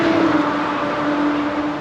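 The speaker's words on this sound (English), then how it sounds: "Noisy trucks." Heavy trucks pass on a road near a river in spring, a steady loud engine drone with a sustained tonal hum holding throughout, unbroken and close.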